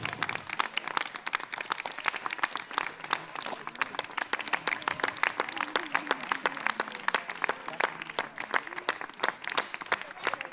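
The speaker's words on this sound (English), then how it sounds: "let us give them a loud applause." Sustained crowd applause at a 98th birthday and Ladies Day celebration, many hands clapping in a dense, rhythmic wash over ten seconds, with faint voices and a low tone running underneath.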